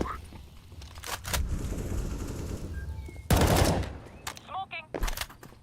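Video game gunfire, bursts of rapid automatic shots and single cracks, loud and close, with a heavy blast partway through and voices talking under the action.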